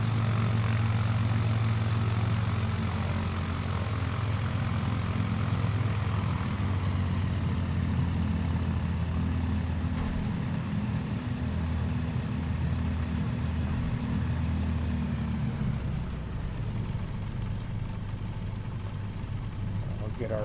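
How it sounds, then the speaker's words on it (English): Aircraft engines idle on approach in Microsoft Flight Simulator 2020, a steady droning propeller hum that softens toward the end. "we'll get ready to cut the engines to idle."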